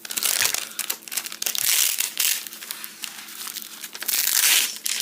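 Plastic packaging around Yugoslavian AK rifle magazines crinkles and crackles up close as it is carefully unwrapped, in irregular bursts of crumpling with brief pauses, and no talk.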